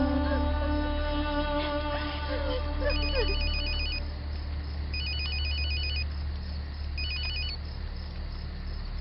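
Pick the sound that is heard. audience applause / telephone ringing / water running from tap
telephone ringing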